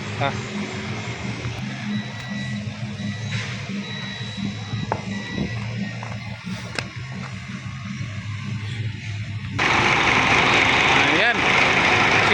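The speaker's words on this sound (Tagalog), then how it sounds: "napakaingay dito mga boss dahil napakalaking engine to" Large engine of a Foton tractor head truck idles with a steady low drone and rumble, then the noise jumps sharply louder and broader near the end as a fan or blower comes on; voices talk over it throughout.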